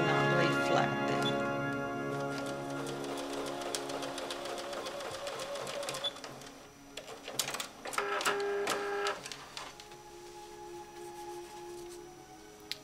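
A sewing machine runs in a few bursts of fast rhythmic stitching along a quilt seam, close and fairly quiet, with soft clicks between the runs.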